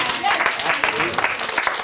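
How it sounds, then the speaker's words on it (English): Studio audience applause on a TV news panel show, a dense steady wash of clapping lasting the full two seconds at even loudness, with voices mixed in. "You started in applause immediately."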